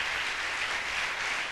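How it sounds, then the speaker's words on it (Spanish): A church congregation applauds during a worship service, a dense, steady wash of clapping from many hands that stays loud throughout. "Ese Dios es el que hoy merece un aplauso"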